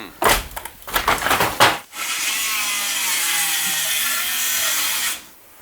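A Milwaukee Sawzall reciprocating saw with a demolition blade cuts through wood. Choppy, rasping strokes give way to a loud, sustained buzzing cut, which ends abruptly.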